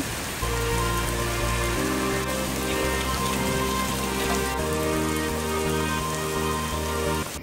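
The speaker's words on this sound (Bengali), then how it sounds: "অনেক বৃষ্টি পড়ছে" Heavy rain pours steadily outside, a dense, loud, continuous hiss of drops striking surfaces with no voices.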